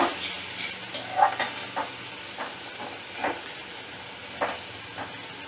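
Okra and potato in a mustard-poppy gravy are stirred in a pan, a few soft scraping strokes and gentle bubbling over a quiet simmering hiss, spaced irregularly and fairly faint.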